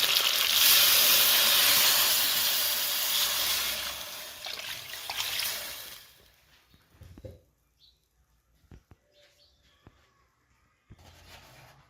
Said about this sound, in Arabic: الآن نضيف الماء